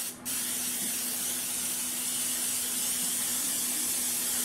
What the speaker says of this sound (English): I am going to come back over it with just a little bit of cooking spray